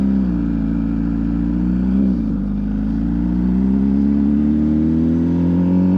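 A new MV Agusta SV 1000 Oro motorcycle is ridden on its first miles, its engine droning steadily and loud up close, dipping briefly near the middle, then rising gradually in pitch.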